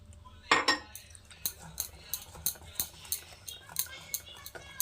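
A spoon beats biscuit cake batter in a bowl with a steady series of light clinks and scrapes, about two or three strokes a second, close and fairly soft, with a brief louder knock near the start.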